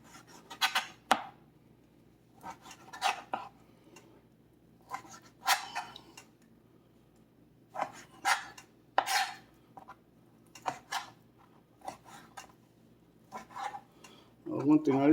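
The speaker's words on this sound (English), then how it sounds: "I'm trying to cut them approximately the same size so they cooked about the same" Knife chopping raw chicken pieces on a cutting board for a chicken persillade, heard as a series of short, crisp cuts in clusters with pauses between, close and moderately loud, with a brief clatter at the end.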